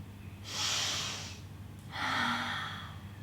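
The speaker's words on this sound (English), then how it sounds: "Breathing up into the sides of my rib cage whilst I reach." Two slow, deep breaths taken during a Pilates exercise, each a long airy inhale or exhale, close and fairly loud, with a short pause between them.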